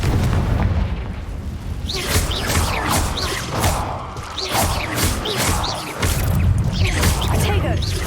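Confringo fire spell bursting in Hogwarts Legacy, a run of loud booming, crackling blasts layered over a dense game soundscape of effects and music, with a heavier surge near the end.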